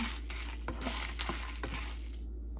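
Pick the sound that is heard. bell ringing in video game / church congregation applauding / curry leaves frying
curry leaves frying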